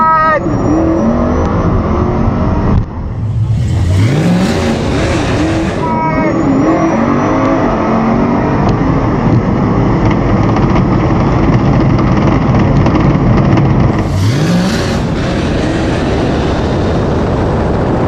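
Tesla Model S Plaid on drag radials making a full quarter-mile drag racing pass against a 900+ horsepower Hellcat 'Cuda: steady loud vehicle and road roar with brief surging whooshes, people talking throughout.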